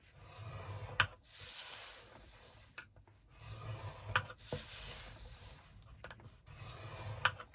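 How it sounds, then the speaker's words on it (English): Several slow rasping strokes of a scoring tool dragged across white cardstock, one for each of the four sides scored at one inch, each stroke a close, soft scrape separated by short pauses and small taps. "I am scoring this at 1 inch on all 4 sides"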